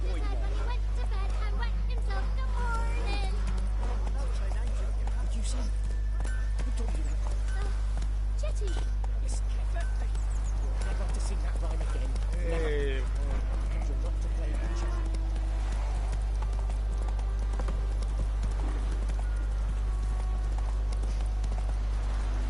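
Roach the horse trotting and galloping in a video game, rhythmic hoof clip-clops over a steady low hum, with occasional snorts and people talking throughout.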